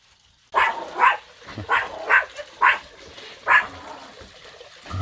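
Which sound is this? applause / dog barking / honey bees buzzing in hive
dog barking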